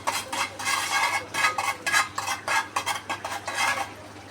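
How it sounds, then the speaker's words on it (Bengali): Metal spoon stirring dried chili powder and salt into oil in a pan while cooking prawn balachao, rhythmic scraping and clinking strokes repeating steadily, close and moderately loud with no talk. "এখন একটু মিক্স করে নেব শুকনো মরিচের গুঁড়া"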